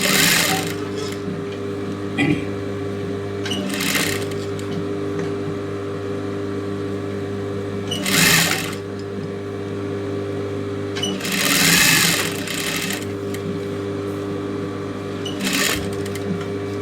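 Domestic sewing machine running in short bursts of steady whirring stitches along the neckline edge of a girl's silk pavadai skirt, with pauses and a faint background hum between runs.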